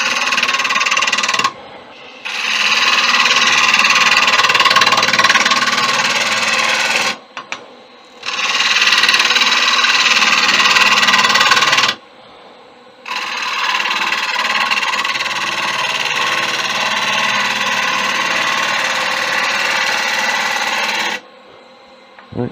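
Bowl gouge cutting a tiger wood platter on a wood lathe, loud rasping passes of several seconds each separated by brief pauses, close and harsh, no one talking.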